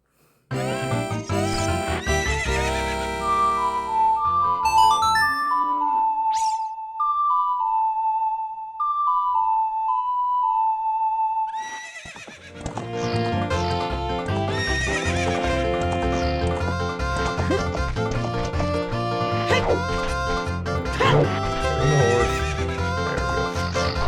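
Epona the horse from the video game Zelda: Ocarina of Time, with a game melody and rhythmic clip-clopping hooves, then a short bright tune over a pause, then hooves and music resume at full level.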